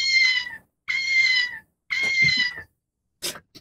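A cat-shaped bag clip toy gives three electronic meows in a row, each about half a second, loud and close, followed by a short click or rattle, with no talking.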